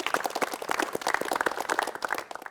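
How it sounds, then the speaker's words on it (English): A TV studio audience at a startup pitch competition claps and applauds, dense overlapping hand claps building a steady roar of applause that tapers slightly at the end. "Please give yourselves a big round of applause."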